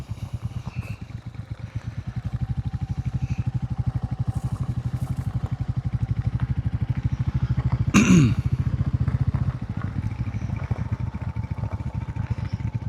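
A Royal Enfield Classic 350 motorcycle rolling over gravel, its single-cylinder engine thumping steadily and close throughout, with a brief sharp clatter partway through.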